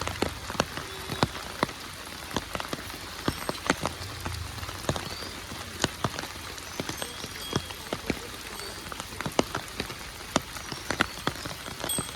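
Rain patters on a hard surface, scattered drops ticking sharply over a steady wash of falling water.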